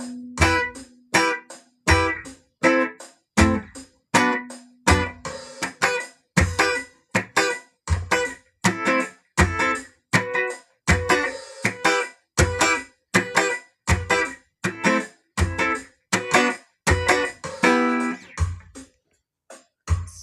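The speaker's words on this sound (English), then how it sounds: "the sound of an acoustic guitar" An acoustic guitar strums a steady offbeat reggae rhythm of short, choppy chords, clear and close, with no voices.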